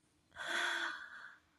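A woman takes one excited breath, a breathy gasp heard close and alone, swelling and then fading over about a second.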